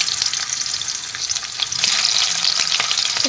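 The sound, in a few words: fish frying in hot oil in a wok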